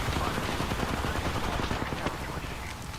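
Rapid bursts of gunfire from the video game Apex Legends, a dense, continuous barrage of overlapping shots and impacts at steady loudness, with game effects mixed in.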